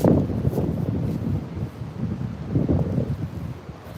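A strong headwind buffets the microphone on an open disc golf course, producing a loud, steady low rumble with gusting surges and faint rustling, and no voices.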